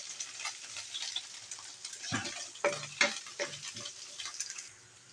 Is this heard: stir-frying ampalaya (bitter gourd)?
yes